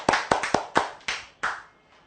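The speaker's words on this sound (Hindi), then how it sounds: "आइए मैडम के लिए एक बार ताली मारो।" A small audience at a health talk gives a short burst of hand clapping: about six sharp, separate claps, close and clear, thinning out and fading within two seconds.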